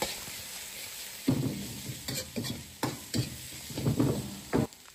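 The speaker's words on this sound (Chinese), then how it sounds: "胡萝卜，翻炒几下。" Shrimp, cucumber and carrot being stir-fried in a wok with ginger and scallion, giving scattered scraping and tossing bursts over a faint steady sizzle, close and moderately loud with no talking.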